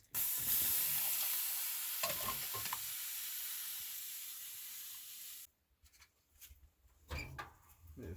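Soup simmering and being stirred in a pot at an off-grid cabin, with a steady sizzling hiss for about five seconds, then a pause and a few sparse clinks and scrapes of stirring, no talk.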